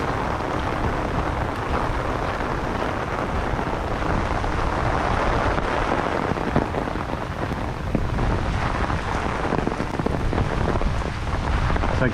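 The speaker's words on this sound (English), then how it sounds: "Here the rain is not as heavy because the trees are acting as a filter." Heavy storm rain pours down on and through the trees, a dense, continuous hiss and patter with a low rumbling undertone, steady and loud throughout, no voices.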